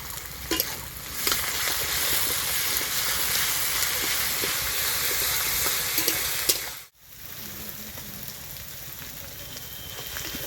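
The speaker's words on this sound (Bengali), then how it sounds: "রসুন ভাজার পর দিচ্ছি আদা বাটা।" Garlic paste sizzles loudly and steadily in hot oil with fried onions in a pan, cut off by a brief break before the hiss resumes more softly.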